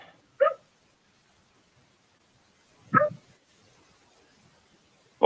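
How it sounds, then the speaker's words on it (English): A dog barks in the background outdoors, giving a few isolated, fairly faint barks several seconds apart against near silence. "Always a dog barking in the background"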